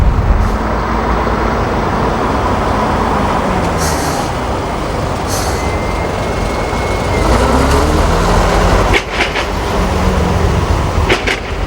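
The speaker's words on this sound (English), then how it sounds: "So I just put her into gear, release the handbrake, and off I go." An Ulsterbus bus engine runs loud and close in a steady low drone as the vehicle pulls away, with a few faint clicks and knocks over the rumble.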